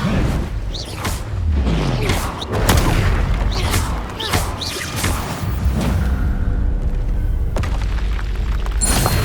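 Spell explosions in Hogwarts Legacy: heavy booms and blasts fire one after another with whooshing sweeps between them, loud and dense throughout, and a voice breaks in among them.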